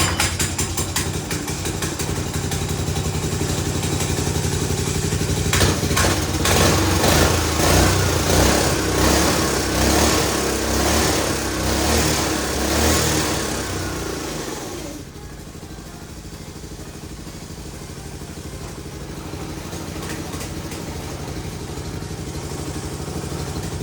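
Small go-kart engine fires up and runs raised on jack stands, a loud buzzing high-revving drone that roughens in the middle, then drops to a steadier, quieter idle.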